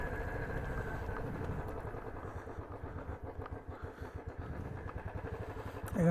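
A motorcycle engine runs as the rider sets off, giving a steady, close, rumbling drone that swells louder at the very end.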